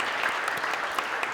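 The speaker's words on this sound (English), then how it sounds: "Big round of applause." Audience applause at a college career and technical commencement ceremony, a dense steady clapping from a crowd filling the whole short moment at even loudness.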